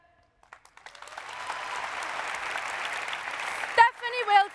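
Crowd applause for three singers at a graduation celebration in Hallenstadion Zürich, swelling from scattered claps into a broad sustained wash from a large arena audience, with cheers and whistles rising near the end.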